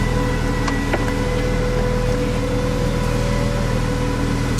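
A 2017 Ford GT with a 650 HP twin-turbo V6 idles steadily, a continuous low engine drone with a faint higher whine on top, close and constant with no speech.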